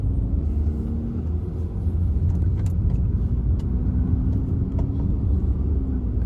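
A car accelerates along a 60 km/h stretch of a driving test route, its engine a steady, close low rumble with road noise running throughout, without speech.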